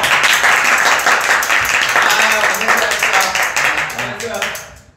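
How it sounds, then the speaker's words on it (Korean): A small group of band members at an awards-night livestream claps together in a loud, steady burst of hand claps lasting several seconds before tapering off, with voices talking over it. "자 일단 박수 한번 칩시다."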